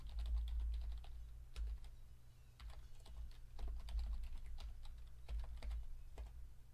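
A password is typed on a computer keyboard in a quiet room, giving a run of light, irregular key clicks over a low steady hum, fairly faint.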